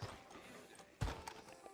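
Horse hooves clip-clopping in the Red Dead Redemption 2 video game, faint and brief, with a thud of a step under a low background hum.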